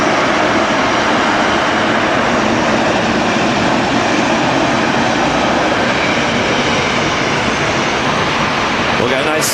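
Airliner on base leg approaching Manchester Airport, a loud, steady broadband engine roar filling the scene continuously without a break.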